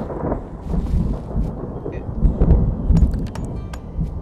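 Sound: thunderstorm in video game Outlaws of the Old West

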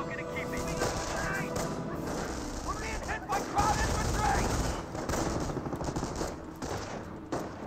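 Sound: MG42 machine gun fire in video game Company of Heroes

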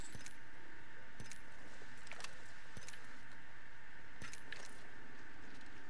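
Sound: keys clicking loudly

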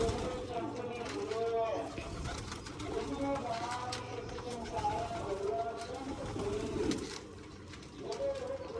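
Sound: pigeons cooing while eating grain

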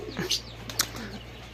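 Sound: pigeons

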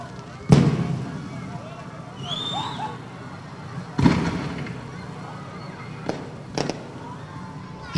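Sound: fireworks display at Christmas opening event

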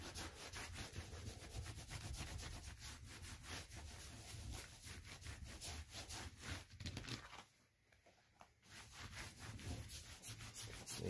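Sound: rubbing wool prefelt for felting

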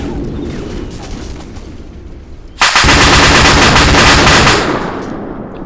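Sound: gunfire in video game ArmA 2

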